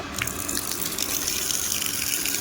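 A Crompton jet motor water pump, switched on after fixing, drives a steady loud gush of water, a continuous rushing flow with no talk over it.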